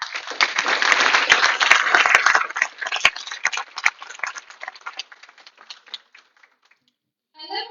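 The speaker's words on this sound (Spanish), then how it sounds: "Recibámoslo con un fuerte aplauso." Audience applause at an in-person keynote lecture on intercultural education research, loud and dense at first, then thinning into scattered claps that fade out over several seconds, with no talking over it.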